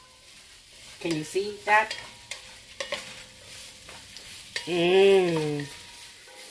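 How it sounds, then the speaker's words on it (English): Seven green onions with most of their stems sauté in a pan while a fish and shrimp soup is prepared, with a faint sizzle and scraping stirs beneath a person's voice. "Just sauteing them around a little bit."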